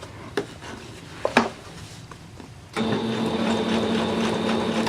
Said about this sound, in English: I'm going to run my stitch all the way up